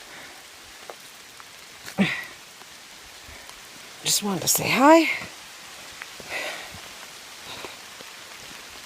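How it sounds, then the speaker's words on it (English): Rain falls on a hiking trail while climbing Katahdin, a soft steady patter heard close by, with a person speaking briefly over it. "You hear the rain."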